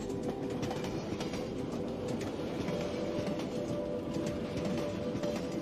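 A night train rolls along the rails with a steady rumble and faint rhythmic clatter, a continuous, fairly loud ride heard up close with no voices.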